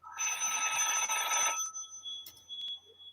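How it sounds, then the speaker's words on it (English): A phone rings in a room, a bright electronic trill of rapid repeated pulses lasting about a second and a half, then a few faint beeps and clicks as it stops. "That's my phone."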